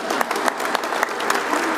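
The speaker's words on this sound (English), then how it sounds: "People usually clap when I thank people." Audience applause at the Navy Pier marina opening, a steady wash of many hands clapping close and loud for a couple of seconds.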